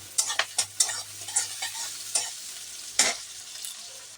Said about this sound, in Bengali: তো আমি পেঁয়াজগুলিকে একটু সুন্দর করে ভেজে নেব খুব লাল ভাজবো না অল্প ভাজবো